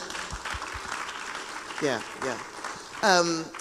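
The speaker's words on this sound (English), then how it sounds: "give him a round of applause" Applause from an audience at a corporate employee financial-wellness retreat, moderately loud and continuous through the clip, with a voice briefly speaking over it and a few low thumps.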